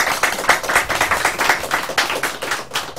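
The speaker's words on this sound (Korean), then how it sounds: "박수 한번 주세요" A studio audience at a Korean political talk show claps for an arriving guest: a dense run of sharp, quick hand claps, fairly close and steady for about three seconds, with no voices on top.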